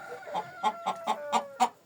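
Chickens and roosters in a backyard flock cluck close by in a run of about seven short, evenly spaced calls.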